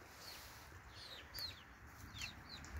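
A Pekin bantam chicken clucks softly at a distance in a quiet outdoor setting, giving several short, scattered calls spread over a few seconds against faint background noise, with no talking.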